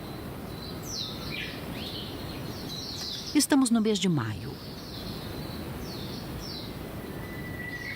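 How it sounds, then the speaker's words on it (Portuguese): Bonin white-eyes on Hahajima island in the Ogasawara Islands give a few thin, high chirps and trills in scattered bursts, faint under steady talk and a brief louder rustle. "Os bonins de olhos brancos garantiram sua sobrevivência adaptando-se ao ambiente da ilha."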